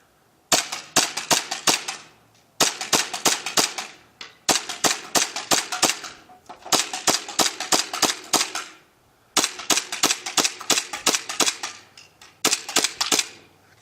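An airsoft 1911 hi-capa pistol fires a magazine in rapid bursts of sharp, loud, close snapping shots, five or six clusters separated by short pauses, with no talking.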